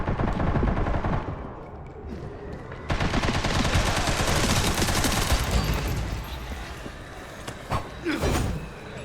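Gunfire in Resident Evil Requiem, a dense, sustained automatic barrage with heavy thumping impacts. Shooting runs nearly nonstop, loud and close, stuttering and dropping out briefly toward the end.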